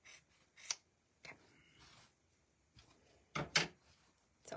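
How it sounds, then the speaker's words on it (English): Hand scissors cut through fabric for an ugly sweater project, giving a few quiet, close snips and slides spaced apart with short pauses, with no talking. "go rogue and cut it with some scissors"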